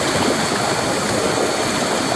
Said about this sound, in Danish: Jeg prøver lige, så det kun er bobler nu.